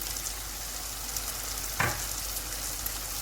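Tomatoes fry in a pan with ajwain, black pepper, dried coriander, red chilli and turmeric for bhindi masala, giving a steady, close sizzle and one brief stir scrape midway, with no talking.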